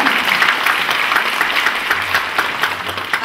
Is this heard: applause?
yes